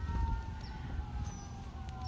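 Emergency siren wailing at a distance in a wooded park, a steady rising and falling tone heard faintly over continuous low outdoor rumble and wind.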